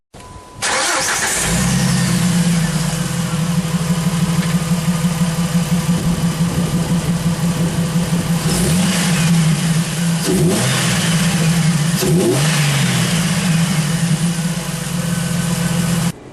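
A Jeep Wrangler TJ engine fitted with a Banks Ram-Air cold air intake cranks and starts, settles into a steady rumbling idle, then revs up sharply a few times before returning to idle.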